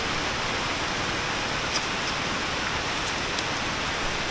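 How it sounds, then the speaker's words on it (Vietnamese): Heavy rain pours down during a fishing outing, a steady dense hiss of water on surfaces that fills the whole stretch evenly with no voices. "Quá trời mưa luôn."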